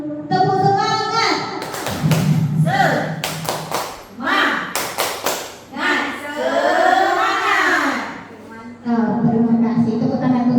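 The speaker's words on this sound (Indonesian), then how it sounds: "Tepuk semangat." An audience at a school teacher-training session doing a rhythmic spirit clap, bursts of sharp hand claps in quick patterned groups, close and loud, alternating with a group chanting along.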